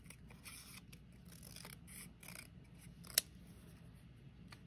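Scissors trim paper for a hinged journal in a quiet room, with faint, soft snips and rustles and one sharper click partway through.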